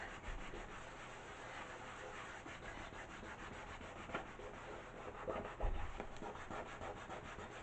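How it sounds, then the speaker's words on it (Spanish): A wooden lid is rubbed and buffed to a shine by hand during a decoupage and decoration workshop, giving a steady, soft, close scratchy friction that runs throughout with slight swells near the end. "Vamos a sacar un poquito de brillo a la tapa."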